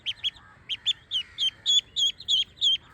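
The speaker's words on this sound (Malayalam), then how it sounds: "ഇതാണ് താറാവ് കുഞ്ഞ്" A series of high, thin peeping calls in quick, slightly uneven succession, close by and fairly soft, like a duckling cheeping.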